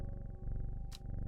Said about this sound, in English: I wish my cat would purr as such.